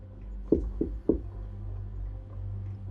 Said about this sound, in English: About 10 minutes later, the knocking came again. Same pattern.